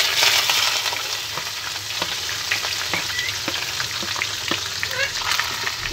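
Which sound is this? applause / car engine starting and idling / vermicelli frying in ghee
vermicelli frying in ghee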